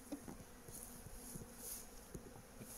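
Honey bees buzzing around a hive during a swarm split, a faint steady drone with occasional individual bees passing closer in brief louder buzzes.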